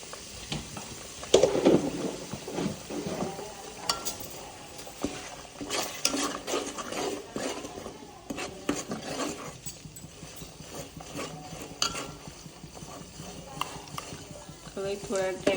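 Masala with Kashmiri red chilli and turmeric roasting in a pan, an uneven stretch of scraping and stirring clatter with faint sizzling underneath, a voice briefly audible near the start.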